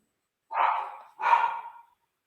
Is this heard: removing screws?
no